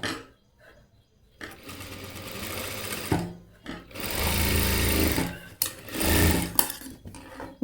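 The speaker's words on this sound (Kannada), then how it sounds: "ಇಲ್ಲಿಂದ ಸ್ಟ್ರೈಟು ಹೊಲಿಗೆ ಹಾಕೋಣ" Sewing machine running in bursts as it stitches a straight seam along the edge of a blouse, loud whirring runs separated by short pauses, no talking.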